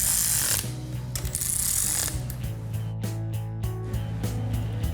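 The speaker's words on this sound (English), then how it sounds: "We'll just run these down a little bit with the wrench." Ratchet wrench snugging bolts on an engine, with rapid repeated ratcheting clicks up close and a steady mechanical background, no talking.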